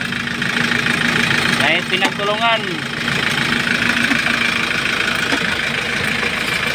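A Hyundai Porter 2 truck engine idles steadily after repair, a continuous mid-pitched rumble heard up close, while someone speaks briefly over it.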